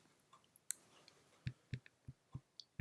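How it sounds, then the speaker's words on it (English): Several sharp mouse clicks, close and fairly quiet, spaced out over a couple of seconds, as the enroll in course button is clicked. "So I'm going to click the enroll in course button"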